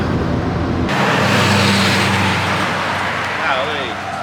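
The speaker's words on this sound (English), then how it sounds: "Traffic is bad out here." Road traffic heard from inside a car on a Florida drive, a steady broad engine and tyre rumble that swells slightly midway, with a brief passing-vehicle whoosh near the end.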